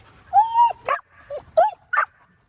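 Farm dogs bark and whimper close by, several short yelps and whiny cries in uneven bursts, loud and clear with no talk over them.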